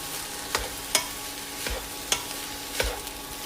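Capsicum rice with soy sauce stirred in a pan on high flame, a faint background sizzle broken by several sharp spatula scrapes and knocks at irregular intervals.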